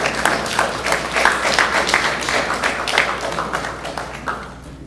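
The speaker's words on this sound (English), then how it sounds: "Just stand and get your applause." A crowd at a 2025 Anguilla general elections event claps for election observers who stand, uneven applause with distinct individual claps rising and falling over a few seconds.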